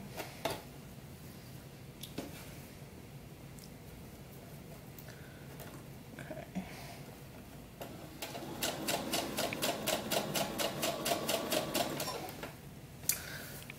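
A sewing machine stitches the fabric of a full doll slip in a steady rapid run of needle strokes lasting several seconds, after a quieter stretch of faint handling noises.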